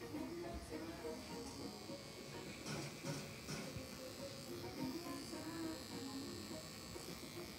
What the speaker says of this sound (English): I'm going to be working that out with another clipper.